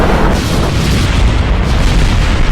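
Missile explosions in the Kerbal Space Program video game, a loud continuous booming roar of blasts filling the whole moment with no pauses and no speech.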